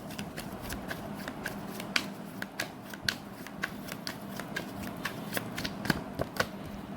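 A deck of tarot cards is shuffled by hand for a reading, a continuous riffling patter of quick crisp card flicks, close and steady, with no voices.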